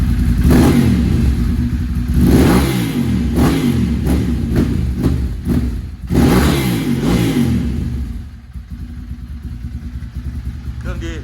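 A used car's engine revving hard at close range, rising and falling through several bursts of acceleration before settling into a lower idle.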